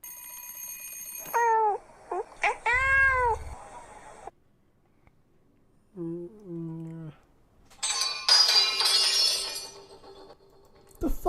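Cartoon cats meowing in an animation, several drawn-out rising yowls in short bursts separated by quiet gaps, with an alarm-like ring and a crash of shattering glass.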